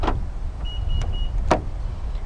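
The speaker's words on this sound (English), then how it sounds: "To lock the car, press the black button on any of the front door handles." A 2017 Honda Accord 2.0 VTi locks via the black button on a front door handle: a few sharp clicks and a thin electronic chirp, close and clear over quiet background hum.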